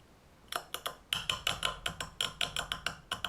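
Repeated sharp strikes of a survival-kit glass breaker, apparently tungsten-tipped, against a glass cider bottle, about a dozen close, bright clinking taps in an uneven rhythm with no voices.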